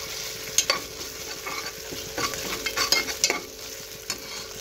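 Sliced onions roast with ginger garlic paste in a pan, giving a steady mid-level sizzle punctuated by irregular scraping stirs and small clicks of a spoon against the pan.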